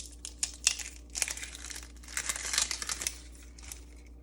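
Papery onion skin being peeled off by hand, close and quiet, with irregular crinkly rustles and small tearing crackles that come in short bursts over a few seconds.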